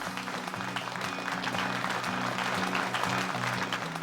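Applause from a college gathering welcoming a state topper and her family, steady clapping lying under a prominent repeating musical tone pattern, moderately quiet throughout.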